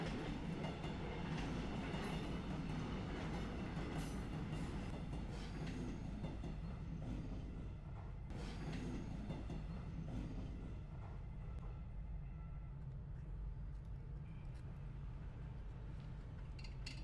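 A train rumbles past close by at a railway crossing in Seoul, with rhythmic clickety-clack of wheels on rails, the steady roar gradually easing toward the end.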